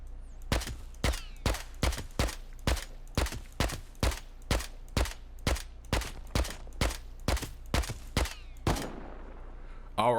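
Suppressed gunshots in the survival game Rust, around nineteen evenly spaced muffled shots in a steady rhythm, each a crisp thud, followed by a brief noisy clatter at the end.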